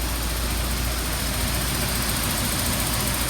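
A car engine fitted with a Racing Beat header and Fidanza flywheel idles steadily before a dyno run, a loud, continuous low rumble with no talk over it.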